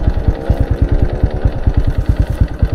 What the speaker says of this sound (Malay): Motor pun tak mati lagi.